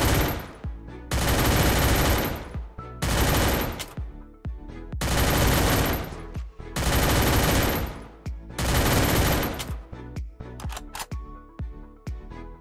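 A low-recoil gun fires in the Free Fire video game: five loud bursts of rapid automatic fire with short pauses between them, then a scatter of single sharp shots.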